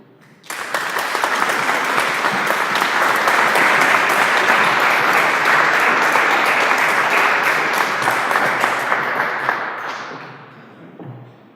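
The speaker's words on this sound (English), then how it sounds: "I kindly ask you for a big applause to Arno" A large lecture audience applauds loudly and steadily for about ten seconds, a dense wash of clapping that fades out at the end.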